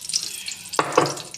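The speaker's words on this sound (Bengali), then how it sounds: "তো তেজপাতা ফোড়ন দিয়ে দিলাম।" Bay leaves dropped into hot oil left over from frying katla fish crackle and sizzle, with a steady background hiss that swells into a sharper burst as they hit the oil.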